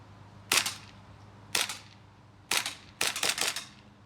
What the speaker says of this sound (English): So as you can tell, extremely hard shooting, very powerful, about 400 FPS.